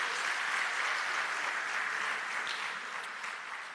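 Audience at an investment summit applauding, a dense, even wash of many hands clapping at moderate distance, sustained throughout and tapering slightly toward the end.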